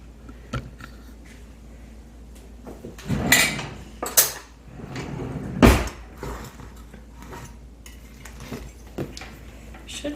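Clattering metal clinks and knocks as a hot metal bread pan of whole grain bread is pulled from the oven and set on a cooling rack, with a few louder bangs midway and quieter rattles around them.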